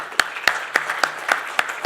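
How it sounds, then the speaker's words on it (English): An audience claps in a steady, evenly spaced rhythm of sharp beats over a softer bed of scattered applause in a hall, fairly loud and with no talking over it. "let's have a huge round of applause"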